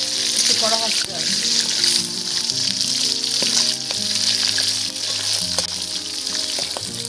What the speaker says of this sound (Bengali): মাছের মাথাগুলো লাল লাল করে কড়া করে ভাজতে হবে